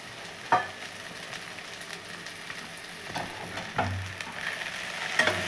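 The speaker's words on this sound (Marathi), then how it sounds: "मिरची थोडी परतून घेणार आहे" Green chilies sautéing in hot oil after onions have browned, for a Maharashtrian bhindi sabzi: a steady close sizzle with a few sharp scraping stirs of a spoon against the pan.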